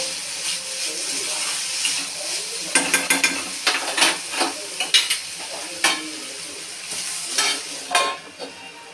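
Potatoes frying in ghee sizzle softly while a utensil scrapes and stirs in uneven strokes close by, with someone talking over the cooking.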